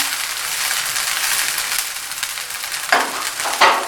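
Chicken fried rice sizzles steadily in a hot pan while being mixed, a loud close frying hiss throughout with a couple of sharp scraping stirs near the end.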